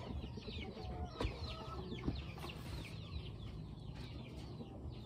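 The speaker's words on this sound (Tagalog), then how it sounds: "papakain muna tayo sa ating mga manok mga ka-farmers" Chickens cluck and chatter at feeding time on a farm, many overlapping soft clucks and short calls, fairly quiet and continuous with a light background hum.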